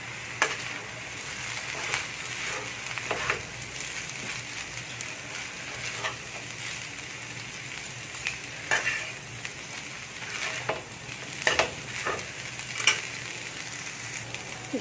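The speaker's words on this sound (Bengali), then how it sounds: "এটাকে দিয়ে এবার আমি মিক্স করে দেবো কাঁটা চামচ দিয়ে" Noodles are tossed with tomato and chilli sauce using a fork, giving soft repeated scraping and clinking against the dish at an irregular rhythm over a faint background hum, with no talking.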